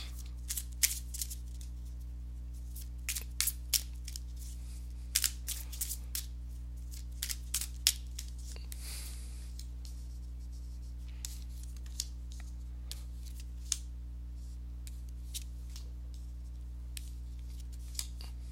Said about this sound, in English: let me go ahead and give these cards a shuffle